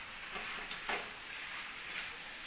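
Hakka noodles tossed in a pan with chili and tomato sauce, giving a soft, steady sizzle with faint scraping and stirring swishes, fairly quiet and without talk.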